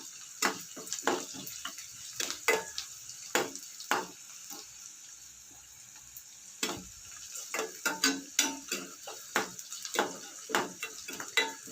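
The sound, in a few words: onions sautéing in a pan for eggplant chutney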